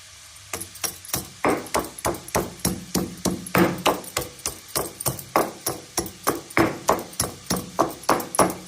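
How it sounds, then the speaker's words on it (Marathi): Ingredients for a brown rice bisibele bath are pounded to crush them in a kitchen. Steady, evenly spaced heavy thuds repeat over and over, close and clear, with no talk. "तोपर्यंत ते चेचून घेते"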